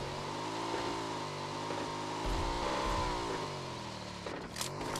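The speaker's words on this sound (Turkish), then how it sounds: "Aha buraya araba gelmiş." A video game car engine drones steadily with a rising and falling pitch, revving up briefly near the middle and again at the end, loud and alone with no talk.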